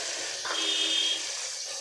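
Ghee heats in a kadhai for spinach mutton, giving a steady, close hiss and sizzle that holds evenly throughout, with no voices.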